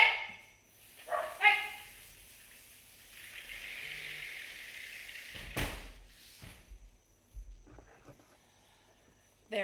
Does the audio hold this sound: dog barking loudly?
yes